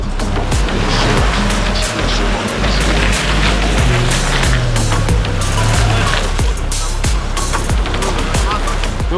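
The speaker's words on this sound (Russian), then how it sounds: "Газует слабенько" A Toyota Tundra driven off-road, engine revving and roaring loudly and close with rough mechanical noise, thumps and scraping, with people talking over it.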